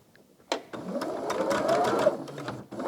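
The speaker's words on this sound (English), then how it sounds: "I am going to start by sewing these, just getting them out of the way." A sewing machine runs steadily, stitching quilt block pieces cut from charm packs, with a sharp start and a continuous whirring hum for about two seconds before it briefly stops and starts again.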